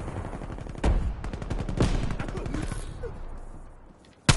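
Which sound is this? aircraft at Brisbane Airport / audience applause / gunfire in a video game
gunfire in a video game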